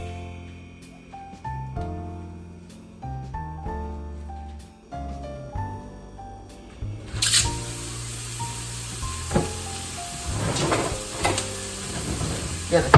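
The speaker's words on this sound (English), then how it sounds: "So let's brown our beef." Ground beef for Cajun rice dressing dropping into a hot pan: after a few seconds of tonal background, a loud sizzle bursts in and holds steady with scraping bumps of a metal spatula, close and busy.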